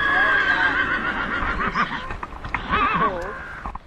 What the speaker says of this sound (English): a paddock of horses ate grass contentedly